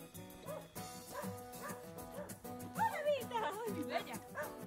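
Several dogs bark and yelp in the kennels of an animal shelter, overlapping repeated barks and whines echoing through the building, heard under someone speaking German throughout.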